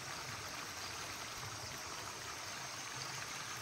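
Water flowing steadily in a village stream, a continuous broadband rush and trickle with no breaks, heard at moderate level throughout.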